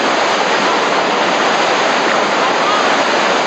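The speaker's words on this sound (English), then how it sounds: "it drains out of a flat pool, and the first rapid is fairly challenging" Whitewater rapid on the Nolichucky River, just below a flat pool, roaring as a steady, loud broadband rush of churning water with no pauses.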